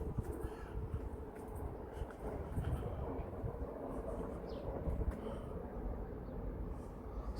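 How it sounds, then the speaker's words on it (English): A distant train rumbles steadily beside the River Adur near Shoreham, a low continuous roar heard across open riverside ground with no talking. "You can hear the train in the background."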